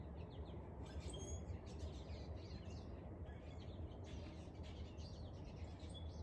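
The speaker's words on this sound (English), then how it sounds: "check out the birds while you're in your backyard on the first day of spring." Birds chirp and call continuously in a backyard on the first day of spring, scattered tweets over a steady low background hum, no talk.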